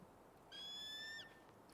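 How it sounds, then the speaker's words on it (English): A single faint, high, whistling bird call from an eagle sounds in the video game Tell Me Why, a short sustained cry over quiet ambient background. "Bird."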